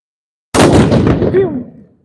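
One loud historic rifle shot bursts out after a moment of silence at a firing demonstration at Halifax Citadel, Nova Scotia, its boom echoing and slowly fading away over the next second or so.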